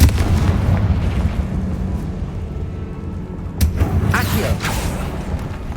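A Confringo blasting spell going off in Hogwarts Legacy gives sharp bursts and booms over a low game rumble, with a loud crack midway and further pops after it.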